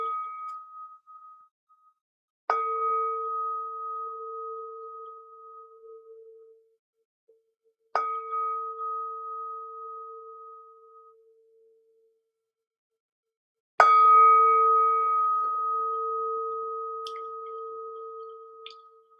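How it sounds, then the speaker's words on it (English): A meditation bell struck three times at a calm, spaced pace, each clear ringing tone sounding alone and decaying slowly into silence before the next strike, the last strike fuller and louder. "So here's the bell."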